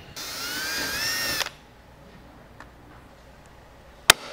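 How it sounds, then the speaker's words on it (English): A rivet going into a 15-inch strutless drag wing spoiler on a Camaro: a loud, close tool whine lasting about a second, then a quiet gap and a single sharp click near the end. "we will go ahead and place the second rivet in"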